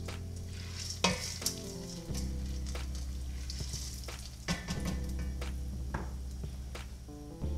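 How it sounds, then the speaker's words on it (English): A spoon scrapes and stirs popcorn and sugar in a hot pot for kettle corn, with soft sizzling underneath and a few sharp clinks against the metal, close up and without talk. "we're gonna add the popcorn and the sugar in there and give it a stir"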